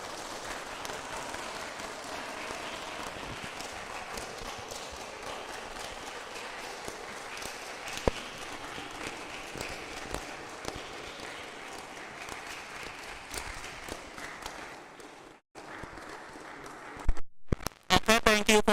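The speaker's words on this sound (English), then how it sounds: "Okay, thank you for your applause." Audience applause in a room after a school project presentation; long, steady clapping with scattered sharp claps, settling down before a few louder claps and handling noises at the end.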